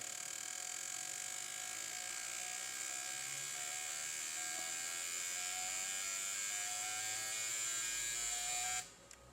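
A Thinckar IMT 602 fuel injector cleaning machine runs at 7,500 RPM, giving a constant close electric buzz with steady high whine that cuts off near the end.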